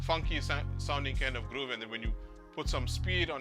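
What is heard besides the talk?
None of the usual background noises is heard.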